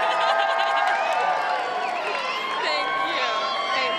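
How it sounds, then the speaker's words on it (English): A crowd at the Hobbit world premiere cheers and shouts in a loud, continuous swell of voices, with high excited cries rising above the din. "Can we have a huge cheer for her being here with her dad?"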